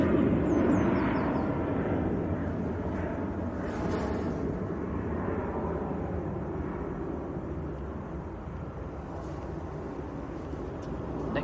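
A Ryanair jet departs Manchester Airport bound for Katowice, a broad, rumbling engine roar loudest at the start and slowly fading as it climbs away, heard from a distance outdoors with faint chirps above.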